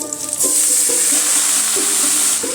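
Finely chopped ash gourd hits hot oil that already holds fried dal, setting off a loud, bright sizzle close up, with a few soft scraping knocks of stirring and no voice.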